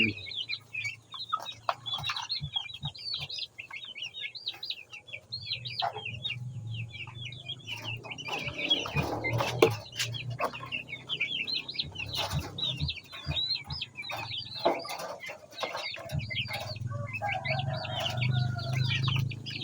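Two-month-old Black Parawakan hens clucking and chirping near and far in an outdoor yard, a steady busy chatter of short calls with low background rumble throughout.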